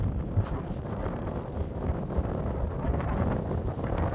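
Steady wind gusts across an Irish seaside golf course at Mulranny, buffeting the microphone with a constant low rumble and rushing noise, loud and close, no voices.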